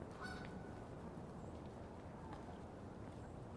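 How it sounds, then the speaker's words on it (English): Geese honk faintly and far off in Central Park in winter, a few distant calls almost lost in a steady wash of outdoor ambience. "I hear some honking, so I know there's some geese"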